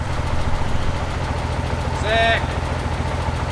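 BMW E30 engine running with a steady low idle rumble, a brief higher-pitched whine around midway, and a short spoken word over it.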